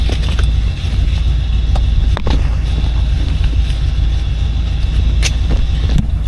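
A 1972 Oldsmobile Cutlass idles just after a cold start, a steady low rumble close by with wind buffeting and a few sharp knocks, no talk.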